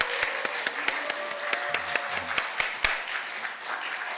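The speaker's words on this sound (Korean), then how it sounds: "우리 박수로 격려하면서" Congregation applause during a Sunday Baptist church service, steady dense clapping with a few sharp louder claps standing out, some brief low murmuring voices mixed in, fairly close.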